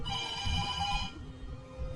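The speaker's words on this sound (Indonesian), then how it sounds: "Tak lama kemudian sebuah telepon berdering." Telephone in an escape room ringing with a bright, tonal electronic trill for about a second, then stopping, leaving a faint hum over low room rumble; fairly quiet, no voices.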